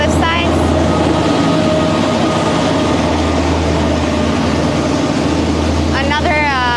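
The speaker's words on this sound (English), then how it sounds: "industrial train carrying like fuel, some sort of gasoline or" A passing industrial train carrying fuel produces a loud, continuous rumble and rolling drone, with squeal-like tones at the start and end, heard close.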